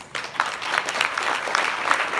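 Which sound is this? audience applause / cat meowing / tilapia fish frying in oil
audience applause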